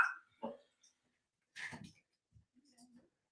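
A dog gives a few short, separated barks and whimpers indoors, fairly close but not loud, with quiet gaps between the sounds.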